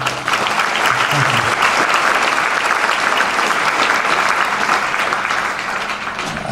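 A large audience breaks into loud, sustained applause for a martial artist marking his 65th year in the art, a thick wash of clapping that holds steady and eases slightly near the end.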